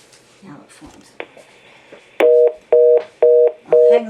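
A telephone tone sounds in four loud, even pulses over the last two seconds, each cutting on and off sharply, after a stretch of quieter background movement and noise.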